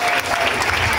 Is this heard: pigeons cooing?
no